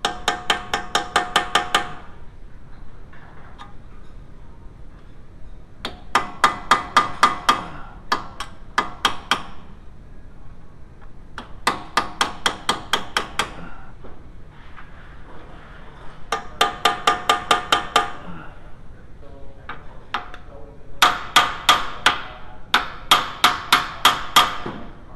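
Hammer blows on a punch to free a tight retaining clip on a VW A3 front wheel bearing, ringing metallic strikes in rapid bursts of about eight to ten hits each, repeated five or six times with short pauses between, close and loud.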